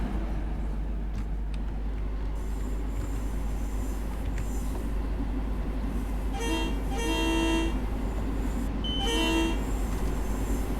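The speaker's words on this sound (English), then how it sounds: "we'll get a bit of horn just to warn the passengers of an impending train" Train horn of a New Haven M8 electric multiple unit in the Train Sim World 2 video game, sounding in two distinct blasts partway through over a steady low rumble of the moving train, with no talk.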